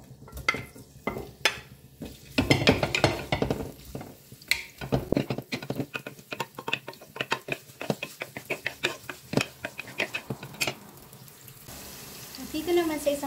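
Chopped onion sautéing in vegetable oil in a pan, with a soft steady sizzle, stirring scrapes and clinks at close range, some louder bursts, and faint background sounds.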